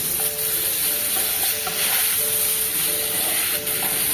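Steady sizzling and hissing from ridge gourd curry frying in a pan as tomato goes in with salt and turmeric, a close, continuous fry with faint stirring.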